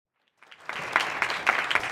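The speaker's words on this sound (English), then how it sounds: "Let's give him a big hand of applause." Applause at a youth games torch ceremony starts after a brief silence and quickly swells into steady clapping from a sizable audience, continuing to the end.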